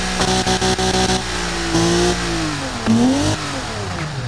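A souped-up lawnmower engine in the BeamNG driving game revs hard, its pitch climbing and dropping in repeated surges, loud and close with a steady droning tone and no talk.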